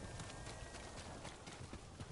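Horse hooves clip-clop at a gallop in the video game Ghost of Tsushima, a steady rapid rhythm of hoofbeats at low volume with no talking.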